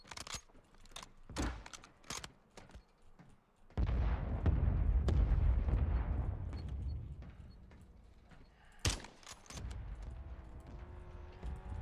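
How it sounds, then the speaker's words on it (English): Mortar strike explosions in a military shooter game: a heavy, sustained blast rumble swells and lingers for several seconds, framed by sharp gunfire bursts before and after. "Copy that. Mortar strike inbound."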